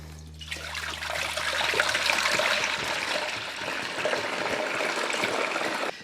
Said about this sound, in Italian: vado a versare il latte per poi portarlo a 40 gradi